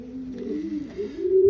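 A racing pigeon, a Kenny White bird kept for breeding, coos in low, soft, rolling tones that are close and continuous for the whole moment, with no talk over it.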